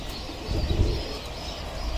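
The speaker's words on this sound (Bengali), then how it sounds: "সবগুলি কবুতর একসাথে আসছে।" Racing pigeons back from a 10 km toss, a brief low coo rising midway through against a constant outdoor background hum, close by.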